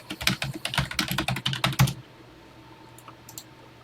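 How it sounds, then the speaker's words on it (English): Rapid typing on a computer keyboard, a close burst of distinct key clicks for about two seconds, then near quiet with a couple of faint taps. "let's get typing"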